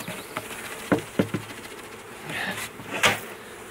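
A honey bee swarm being moved into an apiary gives a faint, steady insect buzz, broken by a few sharp clicks and taps from hive handling.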